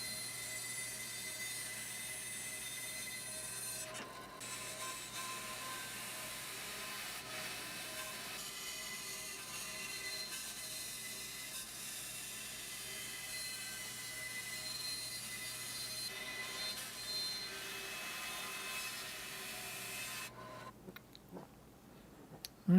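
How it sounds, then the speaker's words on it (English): A bandsaw trimming excess wood from the sides of a guitar neck for an eight-string guitar build: a steady, close machine whine and rasp running continuously for about twenty seconds, then cutting off and spinning down near the end. "I'm going to go to a bandsaw and I'm going to cut away the excess material from the sides of the neck"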